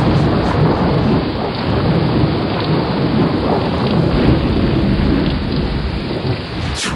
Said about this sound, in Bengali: হঠাৎ একটা বাজ পড়ে।